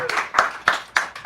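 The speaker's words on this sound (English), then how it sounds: "Give him a round of applause right now" A handful of distinct, evenly spaced claps at an evening gathering at the Sacred Grounds venue, sounding like a small audience giving a short round of applause for a teacher.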